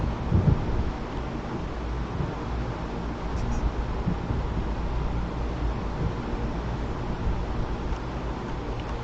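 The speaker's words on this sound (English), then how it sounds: "There's a storm coming. Oh, what a storm." Thunderstorm ambience from the video game Alan Wake: a dense, steady rumble of wind and rain with low thunder swells, loud and continuous, no speech over it.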